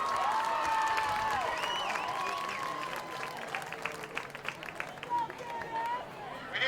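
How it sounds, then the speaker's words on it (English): Applause and cheering from a crowd for the Southside High School homecoming court, sustained clapping with whistles and shouts swelling and fading, voices in the crowd underneath. "a big Southside High School homecoming round of applause for Dennis Johnson Jr. and Kamari Houston."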